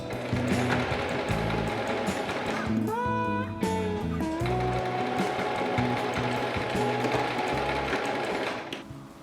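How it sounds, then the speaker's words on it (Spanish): A sewing machine stitches a seam through pink fabric, its rapid mechanical hum running close and steady for several seconds, with a brief change in pitch and rhythm partway through. "pasamos un pespunte exactamente igual que hemos hecho con la tela principal"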